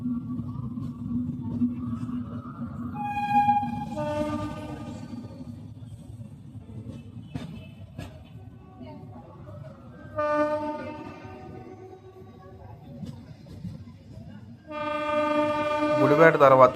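Express train 18520 Mumbai–Visakhapatnam LTT rumbles steadily along the rails while its horn sounds three separate blasts, the last one loudest and closest.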